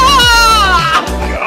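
Goat bleating loudly and close, a long wavering cry with rich harmonics that breaks into shorter quivering calls, right after a man performs flips nearby.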